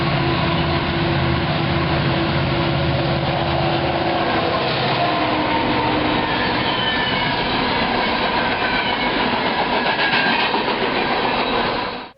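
A freight train with a trailing BNSF Mac locomotive rolls past at close range, a continuous heavy rumble with clattering wheels and faint squeal throughout, no voices.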